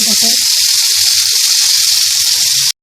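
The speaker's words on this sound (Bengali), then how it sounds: "মাছ ভাজি এরকম হচ্ছে" Hilsa fish pieces fry in hot oil with a steady, bright sizzle throughout, while someone talks over it, and the sizzling stops abruptly at the end.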